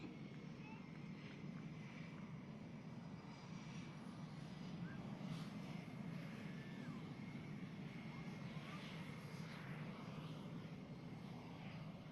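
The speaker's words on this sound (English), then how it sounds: "the solos will be taxiing to runway 25 left" Blue Angels jet aircraft taxiing toward the runway at NAS Pensacola, giving a steady, broad engine roar and whine that holds for the full stretch, moderately distant, with some wind noise.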